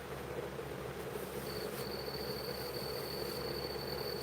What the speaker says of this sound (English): That is a black cricket that you hear.